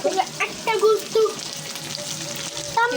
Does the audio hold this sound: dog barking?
no